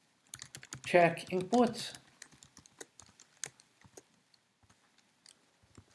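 JavaScript code being typed on a computer keyboard: a brief spoken phrase opens, then scattered, irregular key clicks tap on alone, close and fairly quiet.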